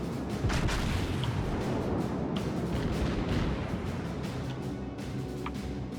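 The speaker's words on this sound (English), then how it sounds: "Might be able to take a shot at the cruiser as we swing around" Naval guns boom in World of Warships as a ship fires at an enemy cruiser, the dull blasts rolling under a dense, steady rumble of engine and sea noise, with no talk over it.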